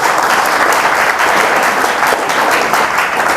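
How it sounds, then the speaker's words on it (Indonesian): A church congregation claps in sustained, dense applause that fills the room, loud and even throughout with no voices on top. "Tepuk tangan buat Tuhan Yesus."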